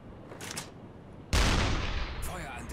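Sustained burst of heavy gunfire from a U-boat's deck gun in the Uboat submarine game, fired at a ship around its funnel; a loud dense barrage erupts abruptly after a quieter stretch of distant shots and keeps rumbling.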